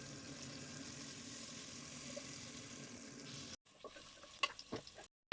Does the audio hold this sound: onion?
yes